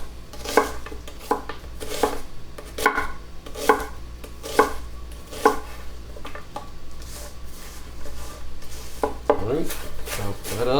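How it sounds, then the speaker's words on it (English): Knife chopping half a large onion on a board, a steady series of sharp, close thuds at roughly one-second intervals with faint scraping in between and no talk. "Alright, chop that up."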